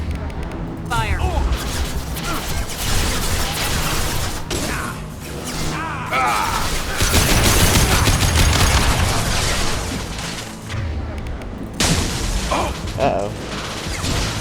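Gunfire in the video game Mass Effect 2 comes as dense, loud volleys of rapid shots and crashing impacts that carry on almost without a break, with voices talking over the fighting.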